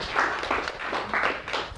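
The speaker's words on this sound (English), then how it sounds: "Give him a big round of applause." A small lecture audience claps in a loose, steady rhythm, a handful of soft, close bursts of applause that fade back toward quiet.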